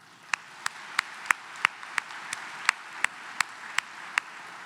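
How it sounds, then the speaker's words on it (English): A single person claps slowly and evenly at an awards luncheon, about a dozen sharp, distinct claps at a steady rhythm over a quiet room hum, close and fairly clear. "And that, I think, deserves a round of applause"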